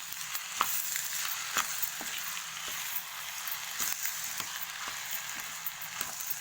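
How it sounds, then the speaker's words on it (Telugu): Curd being stirred into rice in a pan for curd rice, giving a steady close scraping and soft sizzling with intermittent spoon knocks, no voices. "పెరుగు వేసుకొని మంచిగా కలుపుకోవాలి."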